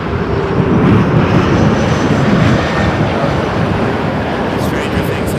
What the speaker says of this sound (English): From Detroit, Delta Connection, Endeavor RJ900.